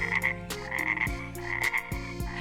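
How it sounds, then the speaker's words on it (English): Rhythmic frog croaks repeating in quick bursts, loud and close, with several calls overlapping in a steady pulsing chorus. "frogs are quite noisy. They love a good song, singing their chorus the whole evening long"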